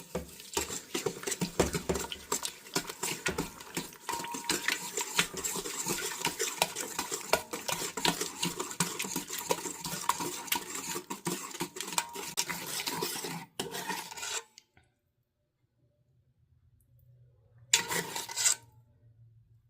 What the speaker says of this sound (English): Now we're going to give this all a whisk.